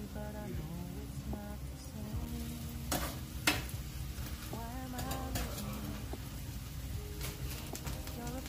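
Flour beignets (Cameroonian style) dropped into hot oil, a steady sizzle and bubbling with a few sharp clicks of a utensil, while someone talks over the frying and birds coo faintly in the background.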